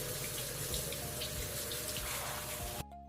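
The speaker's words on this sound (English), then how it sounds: "I take a shower." Steady running water from a shower in a home bathroom, a continuous close hiss with faint splashing, cutting off abruptly just before the end.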